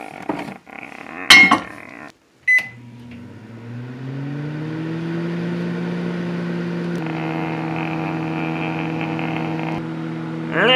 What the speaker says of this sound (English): now let's just take our mug and put it in the microwave.